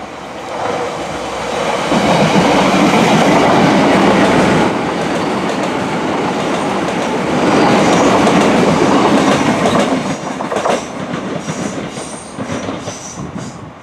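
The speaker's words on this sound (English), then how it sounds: "it is also a good location to film trains at here at Wakefield Kirkgate" A train passes through Wakefield Kirkgate station, loud and close, its wheels rumbling and clattering over the rails in a swelling roar that fades near the end with a faint squeal.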